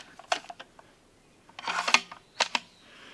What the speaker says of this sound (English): Pull the bolt back out. Obviously it just slides right in.